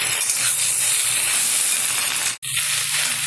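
Jute leaves sizzle in hot oil in a pan, a loud, steady close hiss that cuts out briefly before resuming.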